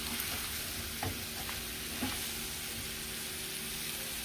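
Coconut curry cauliflower, salted with pink Himalayan salt, sizzles in a pan with a constant bright hiss and a few soft spoon taps as it is stirred.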